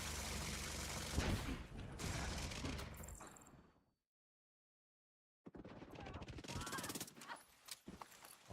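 Heavy automatic gunfire in a Tom Clancy's The Division 2 firefight, dense bursts of rapid shots that cut out abruptly into silence and then resume, loud and close, with voices in the mix.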